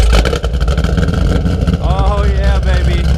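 A cammed fifth-generation Chevrolet Camaro engine rumbles and revs loudly up close, its deep choppy idle climbing in pitch, with people talking over it.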